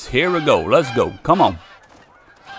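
Geese in a hunting video game give loud, close, repeated nasal honks for over a second, then stop; someone speaks briefly over the calls.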